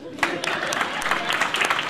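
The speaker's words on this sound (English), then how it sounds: "a round of applause for our sackbut, Dr. McGillicuddy." Audience applause at a Shakespeare performance, steady clapping from a crowd with bright overlapping claps, mixed with some voices.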